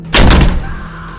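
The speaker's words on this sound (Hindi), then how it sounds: "जोर की आवाज़ के साथ उसके पीछे वो दरवाज़ा बंद हो जाता है" A heavy door slams shut with a loud, booming thud that rings out briefly and then fades, a close, single impact set in an eerie horror-story scene.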